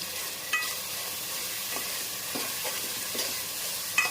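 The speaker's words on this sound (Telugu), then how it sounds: "తాలింపులో కొంచెం పసుపు వేసుకోవాలండి" Turmeric sizzling in hot oil in a tempering for fish curry, a steady hiss close by with a few faint stirring taps.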